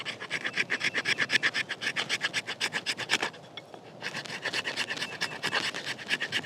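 A TOPS fixed blade tactical knife scraping curls off wood in quick, rhythmic rasping strokes, close and fairly loud, with a short pause midway before the scraping resumes.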